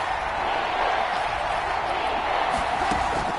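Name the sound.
football stadium crowd cheering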